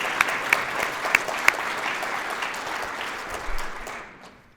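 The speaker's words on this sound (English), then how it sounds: "please join me in a round of applause for our retiring board members" Audience applause for retiring board members at the 2022 Orrville Area Chamber of Commerce State of the Chamber event, a steady wash of clapping with a few sharper claps standing out, tapering off toward the end.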